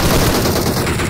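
Automatic gunfire in PUBG Mobile, a loud, dense, rapid burst of shots running through the whole moment.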